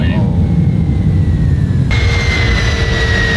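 Airplane engine in a flight simulator video game, a steady loud jet-like drone with a whining tone that shifts abruptly to a higher pitch partway through, no speech.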